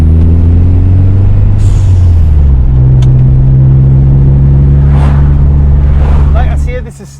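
A standard Ford Escort Cosworth engine rumbles loudly and steadily close by, its low drone shifting pitch as it revs, with faint voices underneath.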